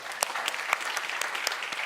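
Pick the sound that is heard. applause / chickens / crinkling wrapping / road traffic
applause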